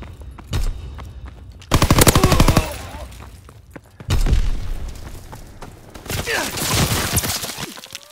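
Bursts of rapid machine-gun fire from a strafing run in a video game, loud and close, with booms and impacts rolling between the volleys.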